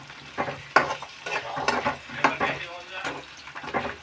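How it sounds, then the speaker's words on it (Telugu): Food fries in a pan while being stirred, with a steady sizzle broken by loud scraping and clinks of a utensil against the pan in an uneven rhythm, close and fairly loud. "ఇవి మంచిగా ఫ్రై అవ్వాలి"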